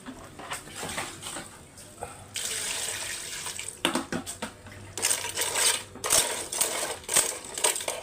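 Running water from a tap splashes into a sink in loud bursts that start and stop, with light clinks of dishes around it.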